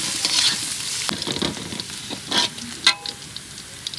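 Onion and garlic fry in oil in a pan before greens go in, a steady close sizzle broken by several sharp stirring scrapes.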